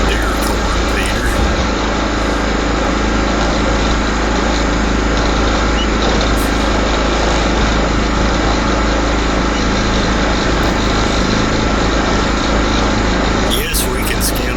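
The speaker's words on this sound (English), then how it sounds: "I've never actually been down this far with this lawnmower before. With this tractor, you might say." A John Deere LT lawn tractor engine runs continuously at a steady, loud, buzzing drone while rolling downhill over dry leaves in the woods, unbroken for the whole stretch.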